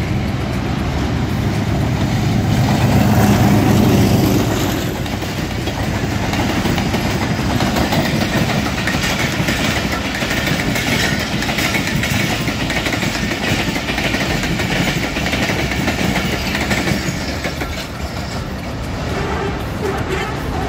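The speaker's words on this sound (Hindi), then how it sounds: "मेहर एक्सप्रेस इस टाइम आ रही है, रावलपिंडी से निकली है 5 बजे" The Mehr Express, a Pakistan Railways passenger train near Rawalpindi, rolls past close by, its loud continuous rumble and clickety-clack of wheels on rails filling the whole stretch without letting up.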